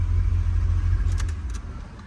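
A 1969 Corvette engine idles steadily with a deep, continuous low rumble, close and fairly loud throughout.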